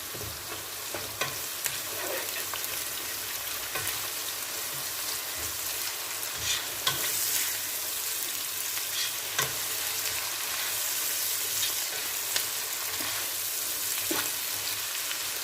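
Onions fry with ginger-garlic paste masala for chicken biryani: a steady close sizzle broken by frequent sharp spoon scrapes and taps as the pan is stirred.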